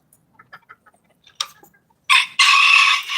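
A boss rooster clucks softly in scattered short notes, then lets out a loud, close crow in two harsh sustained bursts.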